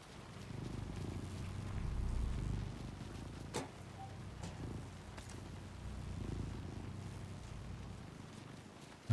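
Low, steady purring hum from a light in the video game Alan Wake 2, swelling and fading in slow waves, with a couple of brief clicks partway through.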